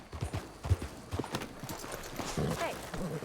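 Horse hooves clip-clop in Red Dead Redemption 2 with a quick, uneven rhythm of close, fairly faint hoofbeats, heard alongside some game ambience.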